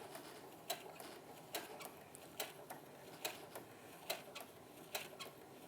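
A home sewing machine stitches an appliqué block, running as a faint steady mechanical hum with regular sharp ticking clicks roughly every 0.8 seconds, alone without talk.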